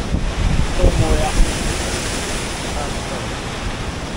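Water rushing at a dam in Fiskars village, a loud, broad, continuous roar with steady hiss and low rumble, close to the microphone, with faint voices briefly audible beneath it.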